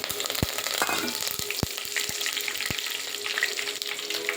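Mustard seeds, two dry red chilies and curry leaves crackle in hot oil for a tomato pickle, with a hissing sizzle broken by sharp, scattered pops and spits from the seeds.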